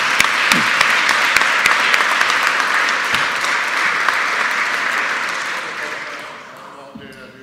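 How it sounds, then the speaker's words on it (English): Symposium audience giving a round of applause, dense clapping strong at first and gradually thinning out toward the end, with talk rising over it as it fades. "If you'd like to join me for a round of applause,"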